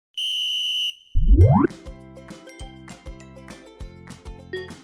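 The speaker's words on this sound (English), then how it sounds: "My whistle is here." A toy whistle gives one shrill, steady blast that lasts almost a second. Then a rising sweep and bouncy, rhythmic music play.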